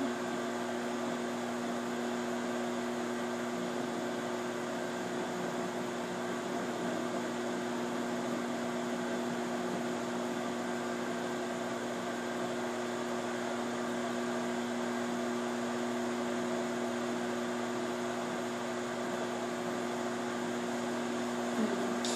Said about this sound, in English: I hear a bit of popping and sizzling in there